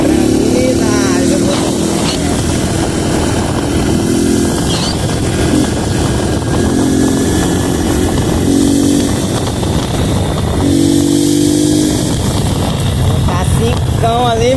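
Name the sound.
Honda Pop 110 motorcycle engine revving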